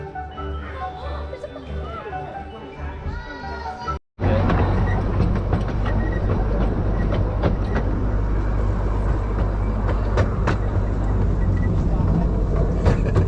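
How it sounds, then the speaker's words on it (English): Small ride-on train at Oakwood theme park in Wales, a steady loud low rumble and rolling clatter that starts abruptly after a brief cut, preceded by a softer stretch with voices and music-like tones. "We thought it was quite cool that you can get a little train there"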